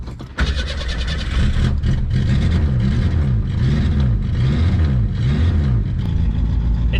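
An old Ford engine cranks and fires up on a cold day with a balky choke, then settles into a loud, steady idle with rhythmic pulsing that holds for several seconds.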